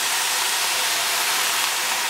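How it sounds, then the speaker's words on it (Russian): Mushroom infusion poured into cabbage stewing in a hot pan, giving a loud, steady, broadband sizzling hiss that holds unbroken throughout, with no voices. "Чтобы капуста хорошо протушилась, добавляем настой"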